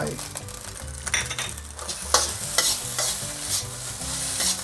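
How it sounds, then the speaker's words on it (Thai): Spring onions stir-fried into tofu fried rice in a pan, with a steady sizzle under repeated scraping and clattering strokes of the spatula, close and fairly loud, with no talking. "ผัดให้ต้นหอมสุกหน่อยนะครับ"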